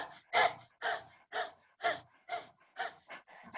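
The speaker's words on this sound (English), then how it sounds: "really breathing from the gut, from the solar plexus, from the stomach, just breathing" Deep belly breathing exercise drawn from the stomach and solar plexus: about eight strong, rhythmic breaths in steady succession, close and clear, with no talking.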